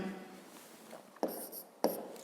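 Numbers being written by hand for a fifth-grade math exercise: faint scratchy pen strokes near the mic, with two sharper taps or marks standing out in a quiet room.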